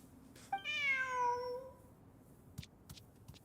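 A cat meows once in Genshin Impact, a single drawn-out, rising-then-falling mew lasting about a second, fairly clear over a quiet background, followed by a few soft clicks.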